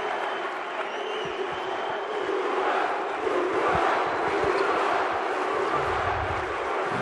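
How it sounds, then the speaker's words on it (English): A basketball arena crowd at a Uruguay vs Mexico FIBA World Cup qualifier roars steadily for Rodriguez, a dense, sustained wall of cheering and shouting with no clear speech over it. "Rodriguez receives appreciation from the crowd."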